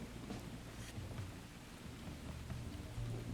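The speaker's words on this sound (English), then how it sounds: "Then came the rain." Heavy rain pours down on an off-grid farm after weeks of heat, a dense, continuous hiss of drops with low rumbling beneath, close and steady with no voices.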